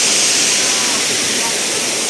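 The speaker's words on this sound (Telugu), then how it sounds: "బ్యాక్ సైడ్ చూడండి, ఇది వచ్చేసి చిన్న వాటర్ ఫాల్, ఇది కూడా చాలా బాగుంది." A small waterfall on the Katika waterfalls trek pours in a steady, full-band rush of falling water, close and constant with no break across the short stretch.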